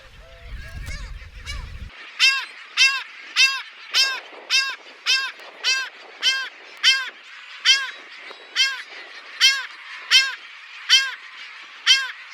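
Heermann's gulls and terns calling at a nesting colony on an island, a loud series of about seventeen harsh, evenly spaced squawks close by, after a brief stretch of low rumbling noise.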